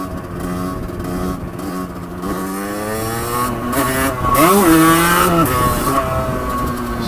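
A Rieju RRX motorcycle engine revs close by during wheelie practice, its pitch rising and sagging as the throttle opens and eases off, loud and continuous.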